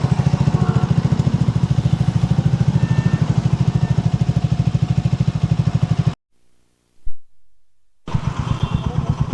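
A CB350 and a Speed 400 motorcycle with raw exhaust idling close by, giving a loud, steady, pulsing thump that cuts out abruptly for about two seconds and then resumes.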